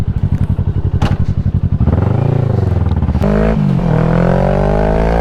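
A motorcycle engine popping and burbling as it decelerates, then settling into a steady loud drone close by, with no talking.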